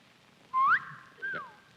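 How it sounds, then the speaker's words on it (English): A guest on a television panel show gives a mild wolf whistle: a rising note, a brief gap, then a falling one, short and clear in a quiet studio. "That is a rather mild type wolf whistle"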